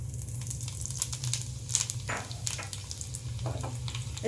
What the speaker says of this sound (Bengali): ঘি গরম হয়ে গেছে, এবার আমি হাফ চামচ গোটা জিরে আর 3টে রসুন আমি কুচি করে নিয়েছি, সেটা দিয়ে দিলাম।